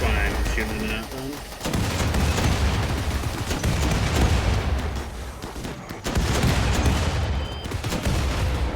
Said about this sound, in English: That's why I'm shooting at them.